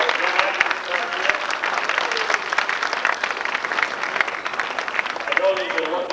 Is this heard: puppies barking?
no